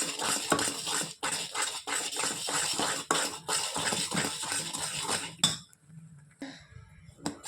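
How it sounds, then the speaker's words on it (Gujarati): A spoon scraping and clinking rhythmically against a metal pot while mohanthal syrup with milk and color is stirred, fast repeated strokes that stop abruptly near the end. "સરસ રીતે મિક્સ કરી દઈશું."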